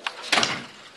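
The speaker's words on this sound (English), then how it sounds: "We lock our doors." Car doors shut at an IKEA parking lot: one brief, muffled thud with a short solid clunk, heard close and alone.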